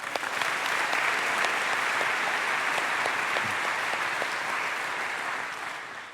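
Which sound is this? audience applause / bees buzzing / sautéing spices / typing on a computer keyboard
audience applause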